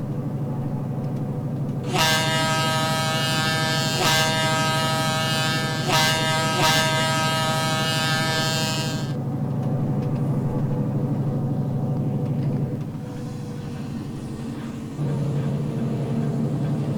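Texas & Pacific F7 diesel locomotive in Trainz 2019 sounding a loud, sustained multi-tone horn in several long blasts over a steady engine rumble, followed by the engine droning on alone.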